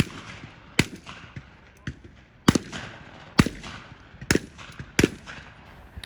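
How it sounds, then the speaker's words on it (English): Shotgun blasts at flying clay targets during trap shooting, about six sharp, loud reports spaced irregularly over several seconds, each ringing out with a short echo over faint outdoor background. "you shoot a lot of rounds out of a shotgun at clay targets that are flying in the air"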